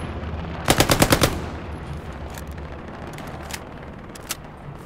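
A rapid burst of about eight automatic gunshots rings out loud and close in the World War II shooter Hell Let Loose, followed by fainter scattered distant shots over a low battlefield rumble.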